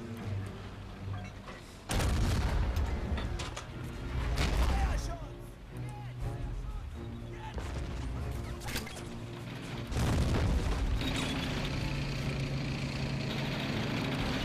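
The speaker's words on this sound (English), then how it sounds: "Actually, the mortar may not be the most accurate weapon, but it's very helpful to destroy everything around." Mortar launches and shell explosions from the World War II strategy game Men of War: Assault Squad, Soviet campaign at Smolensk, come as loud booming impacts and rumbling blasts layered over continuous battle noise, with a voice talking throughout.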